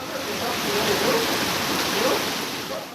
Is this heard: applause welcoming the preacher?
no